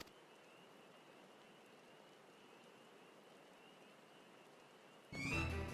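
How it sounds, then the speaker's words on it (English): Rain falling in the video game Final Fantasy XIV, a steady soft hiss of many drops heard alone and faint, cut off near the end by a sudden louder burst of other sound. "Of course it's raining."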